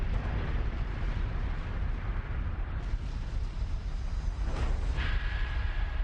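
A long, loud, continuous roaring rumble stands in for an exploding star, sustained throughout with a brief sweep near the end, and no talking.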